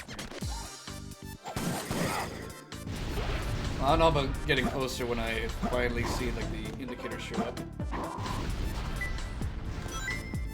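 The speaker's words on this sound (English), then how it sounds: "I keep hearing the sound of the rocks coming around crashing upon me" Rocks crashing down in a video game, a continuous loud rumbling and smashing clutter mixed with game music and effects, heard under a person talking.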